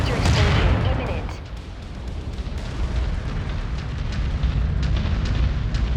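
A mech's reactor blows up in MechWarrior 5: Mercenaries, a loud booming blast at the start that decays into a long rumbling roar with scattered crackles and debris snaps.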